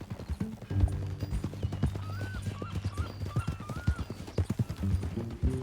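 In the video game Red Dead Redemption 2, horse hooves clip-clop in a steady rhythm close by, and a neigh comes partway through.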